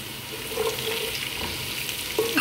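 Half a kilo of onions frying in a pan for beef karila, a steady soft sizzle throughout with faint stirring clinks and a louder scrape near the end.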